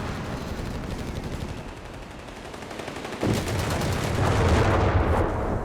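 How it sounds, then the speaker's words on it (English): A Greyhound armored car fires in Company of Heroes 3 against a machine gun team behind walls, as rapid, dense bursts of gunfire roll on continuously and then swell into a louder, heavier barrage partway through. "Northy Greyhound blasting through the walls there of the beleaguered machine gun team up there."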